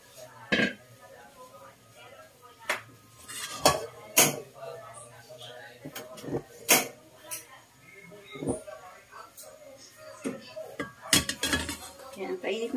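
Metal cooking pans clatter and clink as one is pulled out in a dim home kitchen while preparing ginisang monggo with longganisa, a series of sharp scattered knocks and rattles over about twelve seconds, with a voice talking between them.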